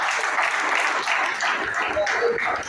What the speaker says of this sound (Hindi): आपको जो जोरदार ताली अशोक सर के लिए देगा